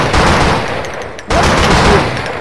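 Rapid gunfire bursts from the video game Blood and Bacon, loud and dense, broken by a brief pause before another close, sustained volley.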